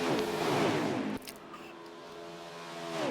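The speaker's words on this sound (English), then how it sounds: "These cars sound amazing." Race car engines in the NASCAR Heat 4 video game, an Xfinity Series race at Auto Club, hold a steady, tonal drone that drops abruptly in pitch and loudness partway through, then holds and slowly swells again.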